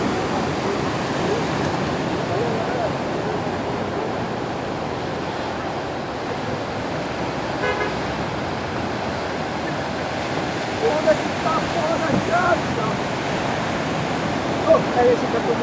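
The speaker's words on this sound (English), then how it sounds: "Here we are in the North Shore of Oahu, where the big waves come." Big ocean surf breaks on the North Shore of Oahu, a steady roaring wash of waves with wind noise across the microphone, continuous and fairly loud throughout.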